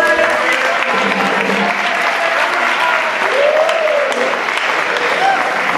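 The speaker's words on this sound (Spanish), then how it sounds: "Un aplauso." Crowd applause fills a carnival proclamation event in Ciudad Real, Spain, a continuous loud wash of clapping with some voices and cheers mixed in.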